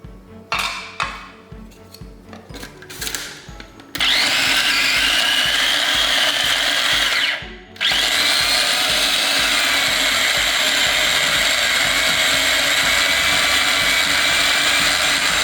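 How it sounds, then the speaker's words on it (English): Blender blitzing coriander powder for Thai green curry paste, a dense whirring roar that starts loud and steady after a few short pulses, drops out briefly midway, then resumes at full strength. "I'm going to blitz the coriander powder and then come back"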